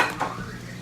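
Pots and pans clatter from someone cooking in a home kitchen, with a brief metallic scrape and stirring over a sizzling background, faint and short.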